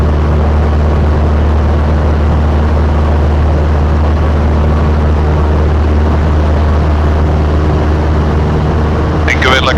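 Light aircraft engine held at full power, a loud, steady propeller drone with constant low harmonics filling the whole cabin, continuous and close throughout, with a brief voice breaking in at the very end.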